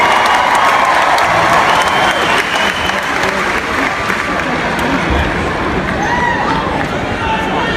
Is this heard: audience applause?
yes